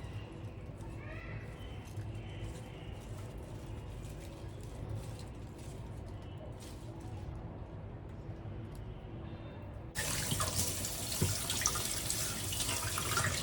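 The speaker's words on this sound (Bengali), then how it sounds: "ভালো করে রুটগুলোকে একটু ধুয়ে নিচ্ছি।" Tap water runs steadily while plant roots are rinsed clean of algae, a continuous close splashing and trickling stream that grows louder and brighter near the end, with no talk.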